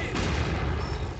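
Incendiary artillery barrage in Company of Heroes 2: a dense, continuous roar of blasts and crackling burning noise filling the short moment, loud and close, with no clear separation between impacts.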